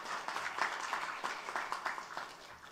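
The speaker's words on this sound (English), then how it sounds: "I think that deserves a bigger round of applause" An audience at a school football league season launch applauds with steady, moderately distant clapping that holds at an even level throughout.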